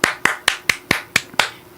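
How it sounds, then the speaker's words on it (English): People clap together in a steady rhythm, seven sharp, evenly spaced claps of roughly equal loudness, with short gaps between them and no talking. "Everybody clap."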